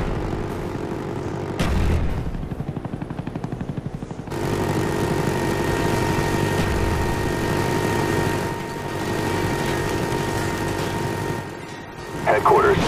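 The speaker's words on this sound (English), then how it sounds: "Friendly spy plane inbound." A spy plane flying overhead in Call of Duty Black Ops, a steady droning engine hum that runs through most of the clip under in-game announcer voices.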